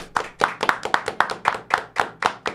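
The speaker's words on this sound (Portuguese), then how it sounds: "uma salva de palmas para a Yasmin" An audience claps for artistic gymnast Yasmin, who competes for Santos: about a dozen sharp, evenly paced hand claps from a small group, close and distinct.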